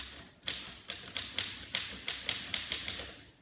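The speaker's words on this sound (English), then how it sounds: "I bet you this is one of the last typewriters." Typewriter keys strike in a rapid, slightly uneven run of about ten crisp, close clacks, each with a sharp metallic snap and no voices present.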